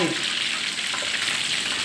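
Sea bass pieces fry in hot oil in a pan, a steady, dense sizzle that crackles on without a break from start to finish.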